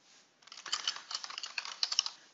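Quiet, close computer keyboard typing as a batch type name is entered, a short quick burst of light key clicks after a brief pause, with no talking.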